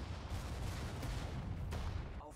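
Gunfire in the Sudden Strike 4 World War II strategy game, Battle of Sedan, May 1940: dense continuous rattling shots with a couple of sharper cracks, steady and fairly quiet.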